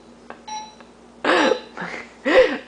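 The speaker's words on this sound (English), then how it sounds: "Oh, it's the phone ringing." Toy car phone ringing: a few short electronic beeps and tones, followed by louder bursts that sound like a voice or vocal noises close by.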